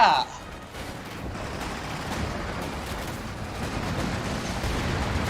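Grenade blasts and battle noise in the real-time strategy game Company of Heroes 2, a sharp burst at the start giving way to a continuous low rumbling of explosions and gunfire, with a voice talking over it.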